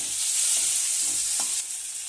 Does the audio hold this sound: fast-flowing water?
no